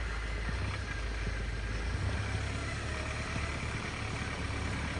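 A car stuck in snow, its engine a low muffled rumble that stays steady and fairly faint throughout, with no clear rev peaks.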